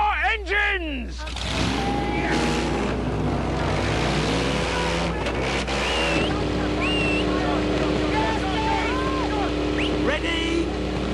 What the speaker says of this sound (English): Gentlemen, warm up your engines!